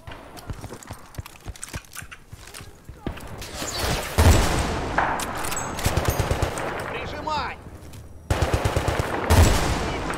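Rapid bursts of gunfire from a 590 or F2000 weapon in a Battlefield 2 desert battle, loud, with dense repeated shots in clusters and louder booming stretches, along with game noise.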